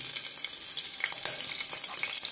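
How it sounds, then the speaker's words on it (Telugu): Green chillies frying in a pan for tomato rice give a steady, fairly soft crackling sizzle with a few brief sharper pops, heard close and alone without any voices. "కలిపిన తర్వాత ఇప్పుడు ఫస్ట్ పచ్చిమిర్చి వేయాలి."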